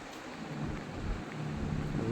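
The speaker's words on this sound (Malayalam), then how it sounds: "നല്ല മഴയാണല്ലോ." Steady heavy rain with rumbling thunder in the Bus Simulator India driving game, a continuous low roar and rushing downpour filling the whole moment with no voices.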